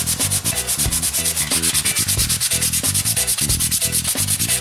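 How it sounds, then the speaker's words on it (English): Sandpaper rubs rhythmically back and forth across a wooden iPhone stand to remove grooves. Steady, close, scratchy strokes repeat in quick succession with no voices. "I still have some grooves, so I'm just gonna sand that out"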